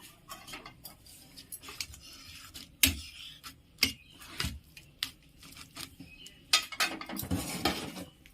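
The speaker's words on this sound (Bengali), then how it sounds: "এই যে সিদ্ধ ডিমগুলো এই গ্রেটারের সাহায্যে আমি ভালো করে গ্রেট করে নেব।" Hard-boiled eggs rubbed against a metal hand grater in a home kitchen, giving a run of irregular scraping strokes and clinks with a few sharper knocks, close up and with no one talking.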